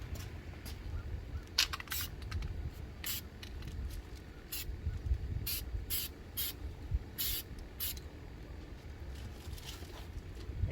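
Aerosol spray paint touching up a Jeep Wrangler hardtop, heard as repeated short hissing bursts of varying length over a low, steady background rumble.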